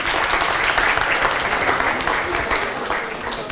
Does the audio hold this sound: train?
no